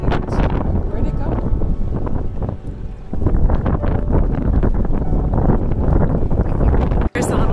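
Strong wind buffets the microphone outdoors in Utah in a constant roaring rush, with a brief dropout near the end.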